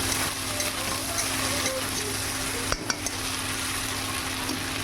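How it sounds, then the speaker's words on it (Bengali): Shrimp frying in a pan with turmeric, a steady, fairly loud sizzle throughout with one brief clatter partway through. "আমি চিংড়ি মাছটা ভেজে নেব। এর মধ্যে একটু হলুদ দেব,"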